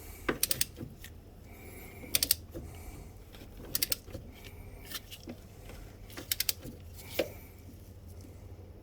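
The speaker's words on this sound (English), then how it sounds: "I'll go and get my torque wrench. Wait for the click." A torque wrench is tightened on the final drive of a Suzuki KingQuad ATV, with short clustered bursts of sharp metallic clicks recurring every second or two against a quiet background.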